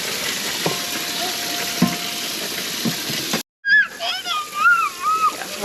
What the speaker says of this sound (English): Are we washing the crawfishes?